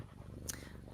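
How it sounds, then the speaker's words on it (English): A steady, low rumbling purr from a cat close by, continuous and soft, with a brief hiss-like rustle in the middle. "You can hear the purring."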